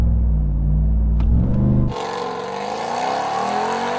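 Hennessey Mammoth 1000 pickup truck launching hard with traction control off: a deep loud rumble builds, then cuts into a strong rising engine roar as it accelerates away, no talking.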